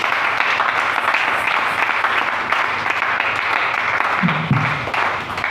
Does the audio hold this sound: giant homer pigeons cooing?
no